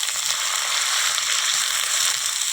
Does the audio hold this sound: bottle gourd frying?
yes